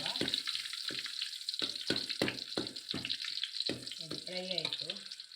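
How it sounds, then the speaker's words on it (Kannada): A punarpuli leaf preparation frying in a pan, a continuous moderate sizzle broken by repeated stirring scrapes, with a brief burst of voice-like sound near the end. "ಇದನ್ನು ಚೆನ್ನಾಗಿ ಫ್ರೈ ಮಾಡುವ."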